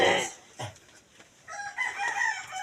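A rooster crows close by amid scattered clucking and outdoor noise, with a brief low thump partway through.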